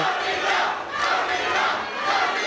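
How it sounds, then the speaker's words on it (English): Loud arena crowd at an MMA fight chants a fighter's name in steady rhythmic waves, voices swelling and falling together with a roaring, dense texture throughout. "As the crowd chant Amena at the Liberty Hall."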